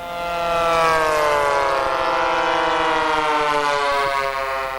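A pylon racing model airplane engine screams at takeoff, a loud continuous high-pitched whine with rising and falling harmonics like a siren, close and sustained throughout.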